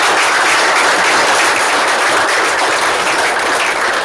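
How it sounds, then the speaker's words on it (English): A big round of applause for Jody Gillis, Rookie of the Year, at a sales meeting, loud, dense clapping from a full room sustained evenly throughout. "Give her a big round of applause."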